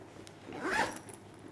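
A zipper is pulled closed on a folding tote duffle bag, a single close rasping run that swells in the middle and fades, with no talk over it.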